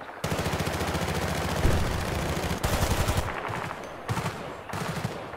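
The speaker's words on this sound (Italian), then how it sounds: "qua c'è una mitragliatrice pesante" Heavy machine gun fire in Battlefield Bad Company 2: loud rapid automatic bursts with a steady fast rhythm, one long burst and then shorter ones separated by brief gaps, close and with no talk.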